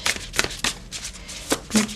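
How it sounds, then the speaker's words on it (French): Cards are shuffled and handled for a card reading, giving a quick run of soft, papery riffles and flicks over two seconds, close by and alone. "Allez, une carte supplémentaire pour ce tirage."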